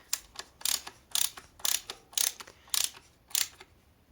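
A hand ratchet tightens a bolt on a Volvo MAP sensor, giving seven or eight crisp, evenly spaced clicking bursts up close, with quiet gaps between the strokes.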